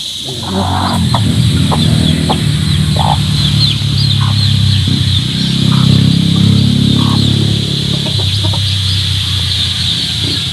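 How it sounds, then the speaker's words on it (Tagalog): Farm chickens cluck and call in a loud, busy flock close by, with repeated short clucks over a constant high buzz of background noise. "Yung mga chicken."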